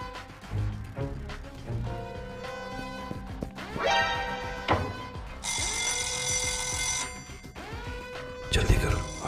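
A fire alarm rings during a building break-in, loud bell-like tones that start and stop in bursts, with one long sustained ringing stretch.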